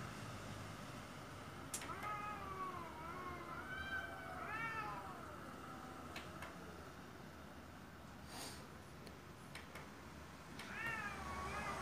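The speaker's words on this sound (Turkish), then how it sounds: "Ya hala pıslıyor kediler ya." Street cats making repeated drawn-out meows and wails, with a few sharp hissing bursts, moderately close against faint background noise; no talk.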